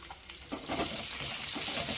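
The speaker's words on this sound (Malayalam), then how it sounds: "അപ്പോൾ നമ്മുടെ മുന്തിരിയും അണ്ടിപ്പരിപ്പും എല്ലാം ഫ്രൈ ആയിട്ടുണ്ട്." Cashews and raisins fry in hot ghee, a soft steady sizzle that swells after a brief quieter start and holds close and even, with faint stirring underneath.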